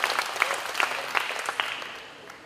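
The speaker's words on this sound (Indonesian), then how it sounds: "Tepuk tangan bagi Awaneko." Audience applause at a speech to Indonesian content creators, a dense crowd clapping loudly at first with a few louder peaks, then gradually fading out.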